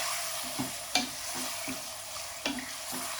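Kaleji (liver) pieces stirred and mixed in a pan, a soft continuous sizzle with several distinct scraping and knocking strokes spaced about half a second apart, close but fairly quiet.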